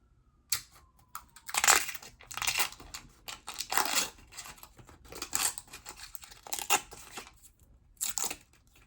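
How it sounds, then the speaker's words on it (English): Crinkly foil-and-paper wrapper of a Reese's PB&J peanut butter cup being peeled off close up, a series of crackling, tearing bursts with short pauses between them. "I had the fortune of peeling this one in such a way as to where none of it got ripped off on the bottom."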